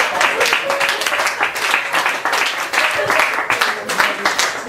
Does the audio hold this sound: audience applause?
yes